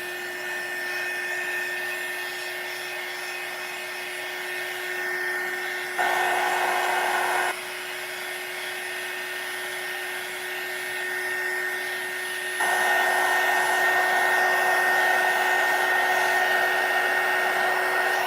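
A hair dryer blows on watercolor paint in a steady whirring drone, close and loud, shifting between lower and higher speed settings across several stretches with no talking.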